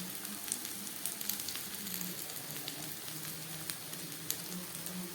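Taro stolons (kochur loti) frying in a pan with turmeric give a steady, soft sizzle with faint crackles, fairly quiet and unbroken, with no voices.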